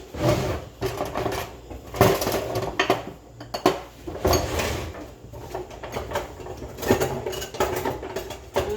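Metal kitchen utensils clatter and clank in a drawer while someone digs for a double spatula, sharp bursts of rattling and scraping broken by brief pauses.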